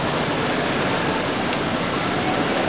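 Water pours steadily over the small waterfall feature of an opal statue, a dense, even hiss and splash close to the microphone with no talking.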